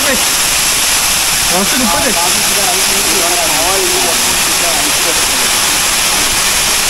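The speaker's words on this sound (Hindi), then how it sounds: "ये रहा वाटरफॉल" A waterfall near Gangtok roars as a continuous loud rushing of water, with a person talking over it throughout.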